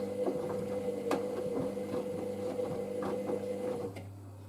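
The drum of a Hoover SIX AAA160 Whisper 1600 washing machine turns during a 50 °C heating phase, with a steady motor hum, soft repeated knocks as the load tumbles, and a click near the end.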